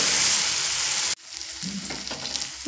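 Masala paste fries in a pan with a loud, dense hiss that cuts off abruptly. A quieter, spattering sizzle with soft scrapes follows.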